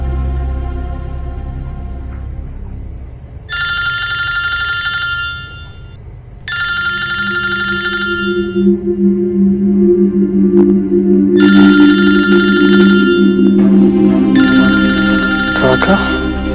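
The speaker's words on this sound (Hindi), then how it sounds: "जतिन को फोन लगाता हूं।" A telephone rings in repeated electronic bursts, two rings, a pause, then two more, loud and close over a low background hum, with a voice speaking briefly in Hindi at the start.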